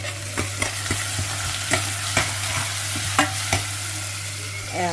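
Curry leaves sizzle steadily in hot oil in a pan, with a spatula scraping and stirring in repeated sharp strokes over the continuous frying hiss; no voices.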